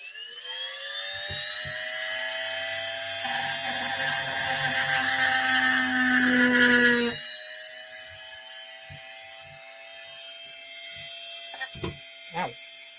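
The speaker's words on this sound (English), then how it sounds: "We're just going to drill into that." A small power drill whines at high pitch as it bores into the side of a Clone Trooper helmet, running steadily for several seconds, then a lower residual whir and brief clicks follow.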